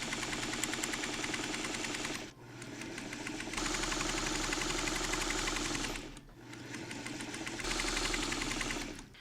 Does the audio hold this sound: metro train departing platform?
no